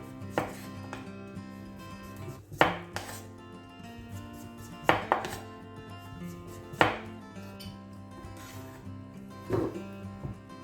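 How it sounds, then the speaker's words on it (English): A knife chops butternut squash into small chunks on a board, giving several sharp, distinct cuts at uneven intervals, close and clear with no talking. "And just cut it into like little chunks."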